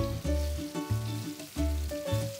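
Apple beignets fry in hot oil with a steady, fairly loud sizzle that swells and crackles in uneven bursts, heard alone without voices.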